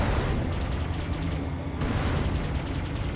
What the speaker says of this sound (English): Oh yeah, you do fire the fuel rod.